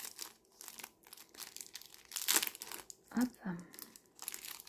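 Crinkly plastic packaging around a soft brown pompom is torn open and handled in a few short, quiet crackling bursts, with a brief spoken word in between.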